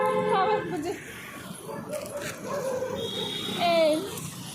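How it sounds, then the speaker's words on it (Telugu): A stray dog following people on a walk whimpers and yips in thin high whines, heard close beneath ongoing conversation. "ఈ కుక్క మమ్మల్ని తరుముతుంది"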